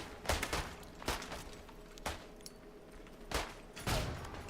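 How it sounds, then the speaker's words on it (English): Grenade blasts and rifle fire in the World War 1 Italian Front shooter Isonzo during a hardcore multiplayer match, several sharp bursts at intervals of about a second, moderately loud over a steady battlefield background. "I got hit with a grenade."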